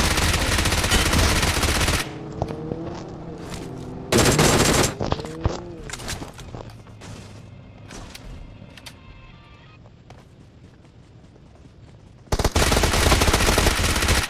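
Bursts of rapid automatic gunfire at the start and end, loud and dense, with quieter scattered shots and game ambience in between.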